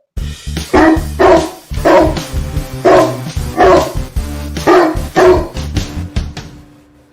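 A dog barking sound effect: a rapid series of about nine loud, sharp barks in close succession, fading slightly at the end, with a low steady hum underneath.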